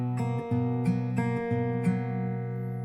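Acoustic guitar picking the melody of a song, single notes plucked in a slow, even pattern that ring into each other, close and clear with no voice over it.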